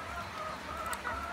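Village chickens cluck softly in a yard on a rainy evening, a brief faint burst of farmyard calls over low background noise.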